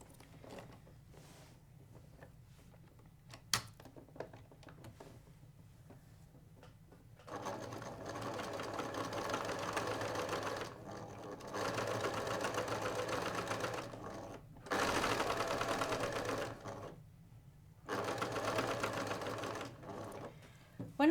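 Sewing machine stitching piping along the edge of a box cushion cover, running in several steady whirring bursts of a few seconds each with short pauses between, close and clear with no talk.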